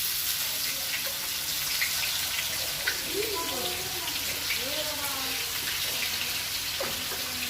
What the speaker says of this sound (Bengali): এটা পেঁয়াজ দিয়ে দিচ্ছি